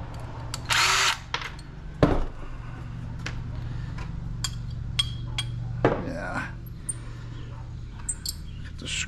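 A power drill backs screws out of a scrapped ceiling fan with cast aluminum parts, giving two short, close whirring bursts between quieter clinks and handling noises.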